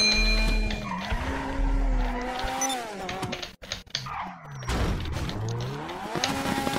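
Car in GTA braking hard, tires squealing and skidding in long sliding screeches over engine noise, with a brief gap before another skid, close and fairly loud.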